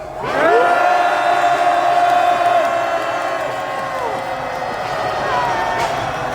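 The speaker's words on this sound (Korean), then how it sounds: "전방을 향해 함성 5초간 발사하겠습니다." A large rally crowd roars a sustained cheer for about five seconds, loud and close, with long shouted voices and whoops rising together before tapering slightly.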